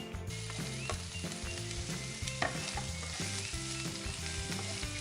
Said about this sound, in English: Fry the onion along with ginger garlic.